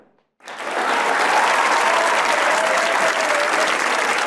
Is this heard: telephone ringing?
no